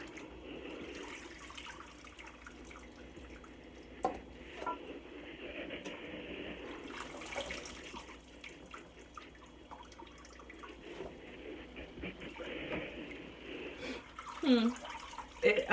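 Water runs and drips faintly in a sink while collard greens are washed, a quiet trickle with occasional splashes and clinks and a few louder bursts near the end.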